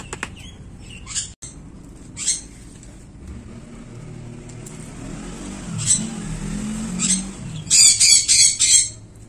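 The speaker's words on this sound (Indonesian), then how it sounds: "itu burung parrot aku tuh yang bising tuh, si Lucy, Mochi, sama si Patu." Pet parrots named Lucy, Mochi and Patu squawk in loud, harsh bursts at a household feeder setting, scattered calls punctuated by a dense cluster of shrill screeches near the end, with low background rumble and occasional wing-flap sounds.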